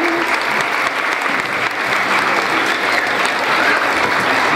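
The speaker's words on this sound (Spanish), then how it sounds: "Recibámoslo con fuertes aplausos," Loud, steady applause from a gathered audience of children and parents at a school vaccination campaign event, a continuous dense clapping that holds for several seconds.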